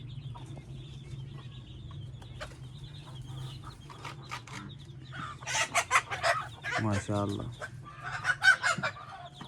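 Purebred Kuwaiti and Arab chickens and roosters in a poultry pen, scattered clucks growing into louder squawks and a rooster crow near the end, with someone speaking briefly among them.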